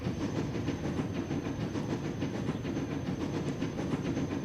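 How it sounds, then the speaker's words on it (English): A steam train engine runs steadily in the railway building game Transport Fever, a continuous rumbling roll with a hissing wash and faint rhythmic clatter, alone and without talk. "this beauty of an engine, I love this engine"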